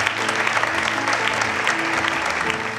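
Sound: audience applause at an awards ceremony

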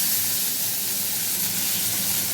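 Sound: cauliflower added to hot oil, sizzling

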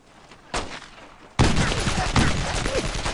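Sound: gunfire in video game Brothers in Arms: Road to Hill 30

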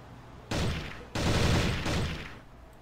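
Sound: automatic gunfire in video game

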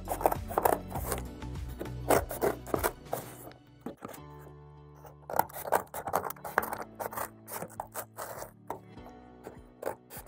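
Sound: cutting creases in a cardboard box for shipping mugs

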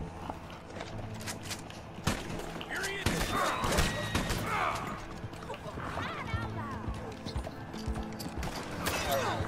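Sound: horse galloping in a video game

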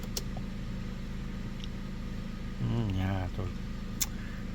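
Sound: Opel Astra J 1.6 16V engine running

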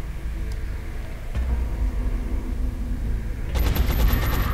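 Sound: gunfire from soldiers shooting an alien in XCOM video game

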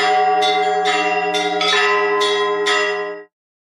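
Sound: church bells ringing during Easter week

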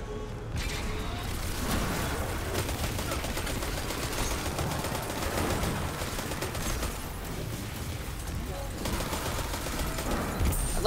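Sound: SMG gunfire in video game Destiny 2

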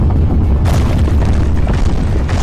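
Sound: place caving in with boom, SMG4 cartoon

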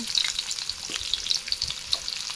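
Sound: frying onion, tomato and brinjal in oil

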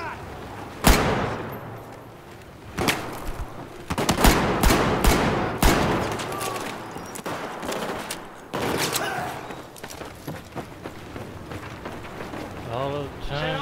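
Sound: gunfire in Battlefield 4 video game campaign

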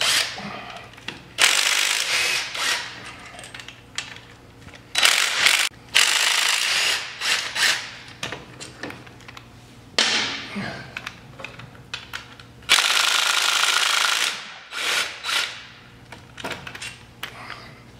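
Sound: 10 millimeter socket removing rockers on Polaris Sportsman 500

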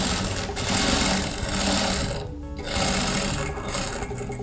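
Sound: sewing machine stitching fabric pieces

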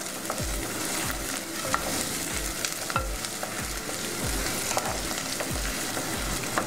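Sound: frying prawns with chana dal in a pan

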